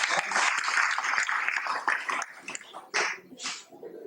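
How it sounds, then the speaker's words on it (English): An audience at a Vyasa Puja gathering in Dallas claps in a round of applause, a dense patter that thins into scattered, uneven bursts before fading out near the end. "Kindly give her a round of applause"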